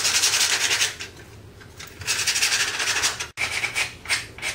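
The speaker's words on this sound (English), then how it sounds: "take a piece of sandpaper and sand off some of the paint around the edges" Sandpaper rubbing over the painted edges of a wooden cross to distress it, a series of close, rough rasping strokes in bursts with brief pauses between.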